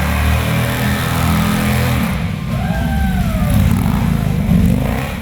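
A motorcycle worth about $250,000 revs its engine loud and close, a dense throbbing roar with rising and falling pitch sweeps partway through, no voices present.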